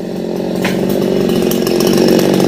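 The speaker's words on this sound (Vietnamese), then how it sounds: "Nên nhờ em Cường cưa thấp xuống phía mái nhà để cho ông bà dễ làm về sau này." A chainsaw cuts through the trunk of a star apple tree, lowering it toward a house roof, with a loud, steady engine drone that holds throughout, close up and alone.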